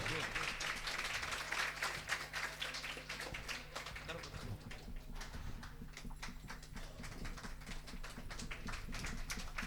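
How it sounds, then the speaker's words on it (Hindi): Applause from an audience at a Jain religious discourse, a dense steady patter of many hands clapping throughout, moderately loud, with tonal hum and a voice running beneath. "एक बार आपकी तालियों की गड़गड़ाहट बहुत कमजोर है"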